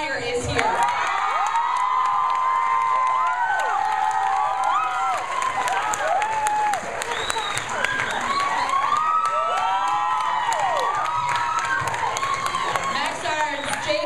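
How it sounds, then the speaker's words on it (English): At a movie screening, a crowd cheers and claps loudly, with high-pitched shrieks and whoops rising again and again over sustained applause throughout. "a huge round of applause for the creator who penned this amazing story"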